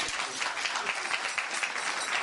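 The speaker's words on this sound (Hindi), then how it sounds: "तालियां बजा।" A seated audience claps along at a Ram Katha religious discourse in a Hindu temple, a thick, continuous patter of many hands with no voices over it.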